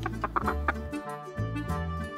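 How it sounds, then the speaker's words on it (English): A cartoon chicken clucks in a few short, quick bursts over gentle background music in a children's farm alphabet song, the clucks fairly soft and close together. "Chicken."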